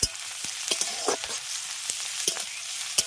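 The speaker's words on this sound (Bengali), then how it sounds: "এবার রসুন পেঁয়াজ আর কাঁচা লঙ্কাটাকে আগে একটু ভেজে নিচ্ছি" Garlic, onion and green chili fry in a pan with a bright, steady sizzle, punctuated by several sharp taps and scrapes from a stirring utensil.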